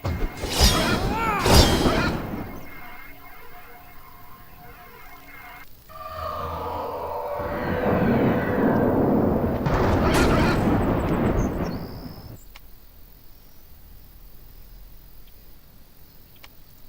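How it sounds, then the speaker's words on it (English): Thunder and lightning in the video game Edge of Eternity: a loud, sharp crash followed by a long, heavy rumble that swells, holds for several seconds, then fades to a quiet hum. "Oh, it's lightning, sorry."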